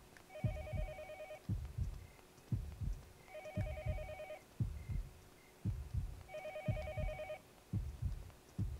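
In Yomawari Night Alone, a telephone keeps ringing in repeated electronic bursts roughly every three seconds, underlaid by deep pounding heartbeat thuds and a faint drone.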